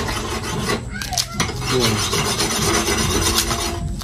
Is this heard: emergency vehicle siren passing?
no